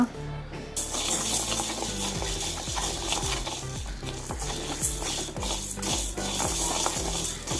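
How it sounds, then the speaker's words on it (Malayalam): Urad dal roasting in a pan for healthy laddu while being stirred continuously: close, rhythmic rattling and clicking scrapes like small hard grains shifting against metal, steady throughout after a brief quiet start. "ഉഴുന്ന പരിപ്പും ഇളക്കിക്കൊണ്ടിരിക്കണം ഇത്ര കളർ മാറുന്നവരെ വറക്കണം"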